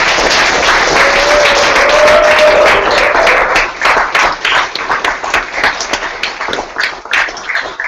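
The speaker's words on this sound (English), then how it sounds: "Another round of applause for that." Audience at a London #hack4good hackathon demo gives a round of applause, dense clapping at first that thins into scattered individual claps as it dies away.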